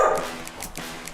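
Benji, a Bernedoodle dog, gives a few short, light barks and yips in quick succession, fairly close but not very loud.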